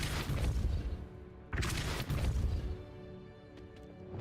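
Depulso spell cast in Hogwarts Legacy, heard as a heavy booming blast that fades and is then followed by a second loud crashing impact with rumbling debris, then a quieter tail.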